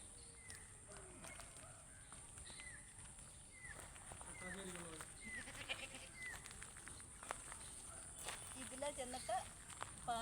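Goats in a green paddy field give repeated short bleats, some near and some farther off, over steady rural background noise with occasional footsteps.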